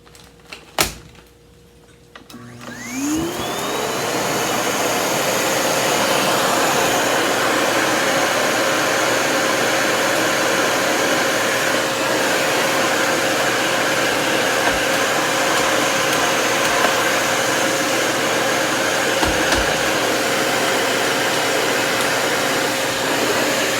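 A Cirrus canister vacuum cleaner clicks on after a few seconds of quiet, its motor whine sweeping up in pitch before settling into a loud, steady drone that runs to the end.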